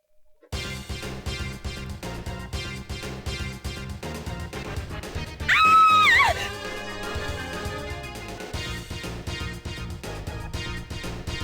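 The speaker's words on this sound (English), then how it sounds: "That scream." A woman's sharp, piercing scream in the video game Thousand Arms rises loud and clear for about a second midway, cutting over steady background game music that plays before and after.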